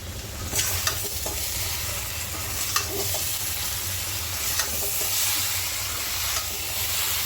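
Vegetarian jackfruit curry with ripe tomato, salt and a little jaggery sizzles and is stirred in a pan, a steady close frying hiss broken by occasional scrapes of the spoon, with no voices.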